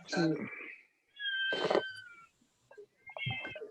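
A cat meows three times, the calls drawn out and wavering with a short pause between them. It sounds fairly close and stands alone with no talk.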